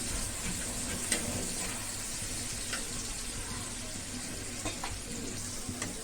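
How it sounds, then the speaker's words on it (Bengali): Chopped onion, garlic and green chili fry in hot oil, giving a steady moderate sizzle with a few stirring scrapes and clinks, close and continuous. "এদিকে গরম তেলে দিয়ে দিব পেঁয়াজ কুচো রসুন কুচি আর যে কাঁচামরিচ কুচি দিয়ে দিলাম তারপর নাড়াচাড়া করে নেব ভালো করে"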